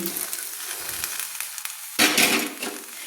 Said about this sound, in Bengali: জল ফুটছে, আমি এবার বাঁধাকপিগুলোকে ছেড়ে দেব।